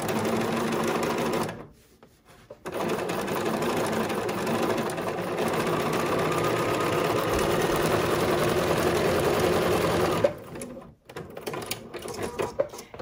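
Close and loud, a Bernette Funlock 48 serger runs steadily along the bottom seam of an embroidered face mask, with two brief stops where the motor cuts out before it starts again.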